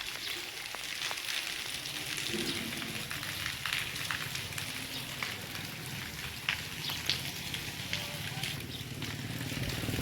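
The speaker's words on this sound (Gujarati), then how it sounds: "બગસરામાં શનિવારે સવારમાંથી વરસાદ ચાલુ." Light drizzling rain falls steadily over a village, a dense, even hiss of drops spread across the whole stretch with a few brief louder patters and faint low background noise.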